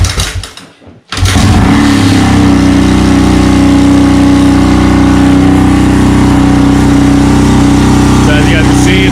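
A Honda XL250 motorcycle engine fires up after a brief dip and then runs loud and steady close by with a constant throbbing idle, and a voice can be heard faintly near the end.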